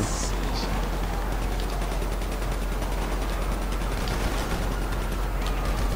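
Rapid, dense gunfire from the video game GTA 5 Online as a player shoots at civilians, a steady loud crackle of shots running the whole time with a few sharper bursts.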